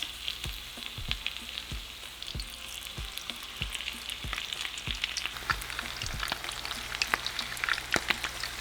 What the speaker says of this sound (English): we're just going to fry them until they turn into a beautiful golden color